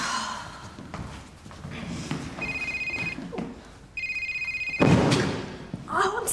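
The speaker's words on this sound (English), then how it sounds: "my phone started ringing" A mobile phone rings in two steady bursts of electronic trilling tones, close and clear, with a sigh and a gasp heard between them.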